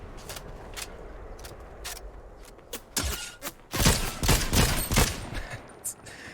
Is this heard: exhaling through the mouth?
no